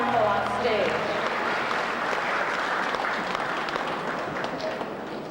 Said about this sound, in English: we ask that you give her a nice big round of applause